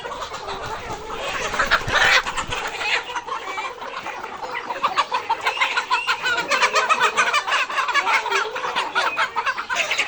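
A flock of layer chicken pullets clucks and chatters continuously at close range, a dense overlapping mass of calls with no talk.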